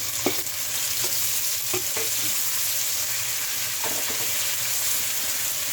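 Chopped tomatoes sauté with browned onions in a hot pan for a Filipino mung bean stew, a steady close sizzle broken by a few scraping stirs.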